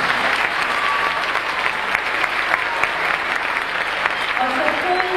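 Sustained applause fills a gymnastics hall as an audience welcomes gymnasts marching in at a spring display, steady and dense throughout, with a voice speaking over it.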